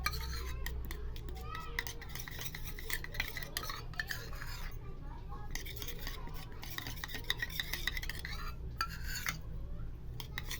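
A spoon scrapes and clinks around a bowl as milk is mixed into a face-mask paste of urad dal and turmeric, a quick repetitive rubbing rhythm close by with faint background voices.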